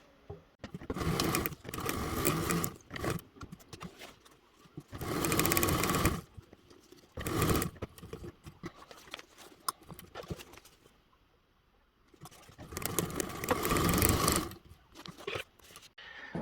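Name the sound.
sewing machine stitching a zipper pocket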